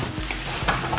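Ghana-style fried rice frying in a pan while a spoon stirs and scrapes through it, a close, continuous sizzle broken by quick scraping strokes, with no talking.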